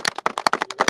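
Applause for Congressman Smith at a live political event, a brief burst of sharp, close hand claps in quick irregular rhythm.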